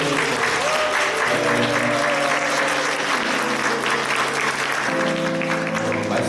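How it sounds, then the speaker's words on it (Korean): A church congregation at a Sunday service applauds warmly for a visiting member's mother, with a dense, sustained wash of clapping from many hands and some voices murmuring underneath throughout. "뜨거운 박수 부탁드립니다"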